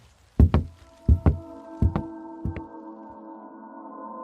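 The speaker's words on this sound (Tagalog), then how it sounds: "Bigla naming narinig ang mga yabag ng paa mula sa loob ng bahay, waring papalapit sa pinto." Heavy thudding steps inside a house, five or six loud close impacts in an uneven rhythm over the first few seconds, each leaving a ringing resonant tail, then quiet.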